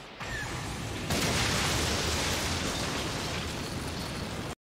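A fire style jutsu explosion from the Naruto Shippuden anime: a loud, sustained roaring blast of dense noise that swells after a moment and holds for several seconds before cutting off abruptly.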